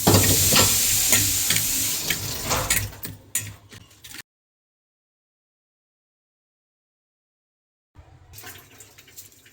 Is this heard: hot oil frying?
yes